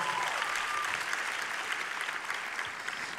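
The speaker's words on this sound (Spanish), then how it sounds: "Si tú quieres aplaudir a eso, entonces aplaude." Audience applause fills a church or conference hall during a Christian worship gathering, steady dense clapping throughout, loud and close with a faint crowd murmur.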